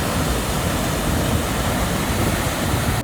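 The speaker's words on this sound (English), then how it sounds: "with even some small waterfalls along the way" Steady rushing roar of small waterfalls along a mountain river trail, loud, close and continuous, like broadband white water with no voices.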